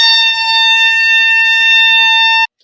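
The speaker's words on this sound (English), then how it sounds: "blowing a damn air horn" A neighbor's air horn blasts at night in one loud, steady, unbroken tone lasting over two seconds before cutting off abruptly, with no voices.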